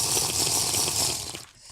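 Steady rushing water in a video game, a continuous loud gush that cuts off abruptly near the end.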